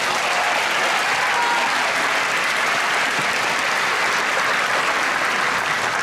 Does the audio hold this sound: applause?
yes